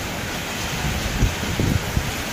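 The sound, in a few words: heavy rain with thunder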